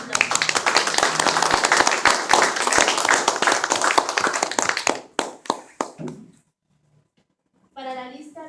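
Applause from a gathered crowd at a prayer ministry servers' meeting, a dense burst of clapping lasting about five seconds that thins into a few scattered claps, then falls silent before a voice begins speaking.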